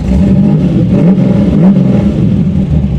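A 500hp 1987 Chevy Monte Carlo SS engine rumbles steadily at close range, with a few brief rises in revs over the continuous idle.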